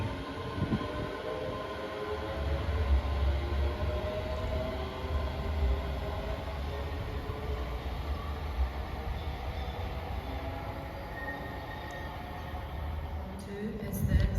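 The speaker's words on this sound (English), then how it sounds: "Departing out now is the 1602 ScotRail service from Glasgow Queen Street to Edinburgh Waverley" A ScotRail service pulls out of Haymarket station in Edinburgh bound for Edinburgh Waverley, a steady, fairly loud rumble of wheels and engine drone that continues throughout, with faint squeals and a rattle near the end.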